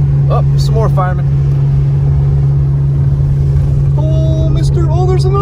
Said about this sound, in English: Oh, there's another truck, fire truck.